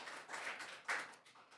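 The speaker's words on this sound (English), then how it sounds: "A round of applause for Ann Anderson." Audience applause for a panelist at an Emancipation Day panel on DC statehood, a quiet, steady spatter of clapping from a seated crowd that swells briefly near the end before tapering off.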